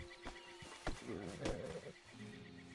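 A horse in the video game Red Dead Online gives a short whinny, a quivering neigh in the middle of a brief, fairly quiet stretch with a few clicks around it.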